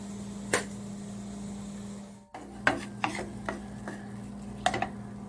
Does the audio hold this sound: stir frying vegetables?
yes